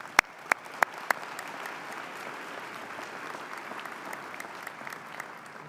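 Audience applause for faculty and staff at a 2023 commencement ceremony: a few sharp, loud individual claps open into a steady wash of clapping from a large crowd, moderately distant and sustained throughout.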